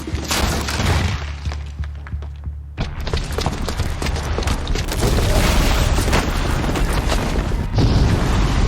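Bomb explosion in the action game Horizon Zero Dawn: a loud, sustained rumbling blast with crashing debris, a brief lull, then more heavy booming and crumbling that continues to the end.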